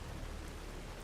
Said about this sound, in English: And yes, of course, we're getting some glorious rain here.